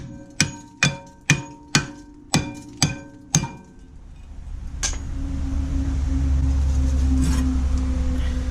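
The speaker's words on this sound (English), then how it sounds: "Remove disc brake using metal hammer if your discs are trash." Metal hammer striking a worn brake disc on a VW Passat B7 rear axle: seven sharp ringing metallic blows in a steady rhythm, close and loud, followed by a low rumbling hum.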